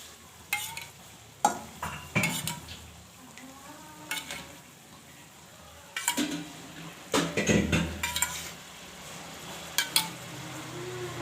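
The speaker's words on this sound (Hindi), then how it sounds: "तमाम मसालों को अच्छी तरह से भून लेंगे" Spices and whisked yogurt are stir-fried in a pan for a smoky eggplant bharta, with a low frying sizzle under repeated sharp scrapes and clinks of a spoon against the pan, close and intermittent.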